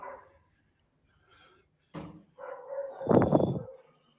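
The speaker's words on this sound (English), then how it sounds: "I hear dogs." A few short dog barks and yips, scattered and fairly close, with a louder burst of barking near the end between quiet gaps.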